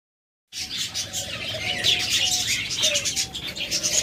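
Cockatiels from a breeding pair in an aviary call after a brief silence, with repeated whistled notes over dense, steady chirping from many birds close by.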